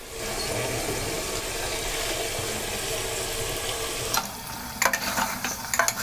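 Coarse onion paste being stirred into mutton korma in a pot, a steady wet sizzling and scraping that runs throughout, with a few sharper clinks and spoon knocks near the end.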